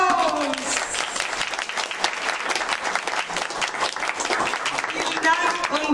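Steady, loud audience applause fills a music school concert hall, dense clapping from a crowd sustained throughout without a break.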